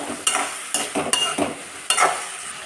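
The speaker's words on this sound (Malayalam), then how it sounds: "ഇതിലേക്ക് അരിഞ്ഞു വെച്ച തക്കാളി ഇട്ടിട്ട് നന്നായിട്ട് വഴറ്റി കൊടുക്കും" Chopped tomatoes sautéing in a pan with curry leaves and dried red chillies, a soft sizzle under four or five distinct scraping stirs of a spoon, close and clear.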